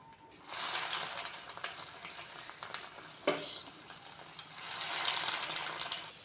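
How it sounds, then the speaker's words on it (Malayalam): A bread veg roll deep-frying in hot oil, a steady close hiss and sizzle that swells and eases, with a brief clatter midway; no talking. "നമുക്കിനി അടുത്ത റോള് വറുത്തെടുക്കാം"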